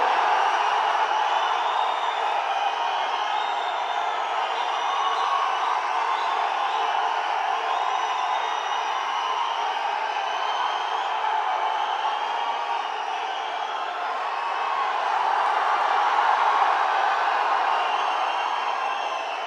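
Sustained crowd at a political rally in Coimbatore, with steady applause and cheering that stays loud and dense throughout, punctuated by scattered whoops and no clear single voice above it.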